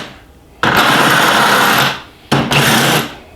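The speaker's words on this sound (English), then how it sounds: "if you're using an impact driver like this one, it just slows it down" An impact driver runs a nylock nut down, heard in two loud, close mechanical bursts of about 1.3 s and 0.7 s separated by a short pause.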